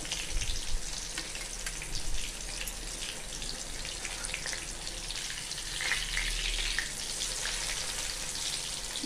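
Slices of elephant foot yam fry in hot oil with a steady, dense sizzle and crackle that holds at an even level throughout, with no voices.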